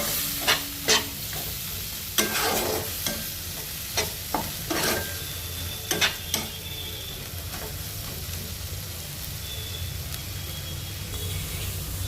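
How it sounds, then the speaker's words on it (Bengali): Spice mix and vegetables being fried and stirred in a pan for begun bharta, a steady sizzle broken by sharp scraping spatula strokes against the pan, close and fairly loud with no talking. "মা এখন 2 মিনিট ধরে মশলাটাকে ভালো করে সবজির সাথে কষিয়ে নেবে।"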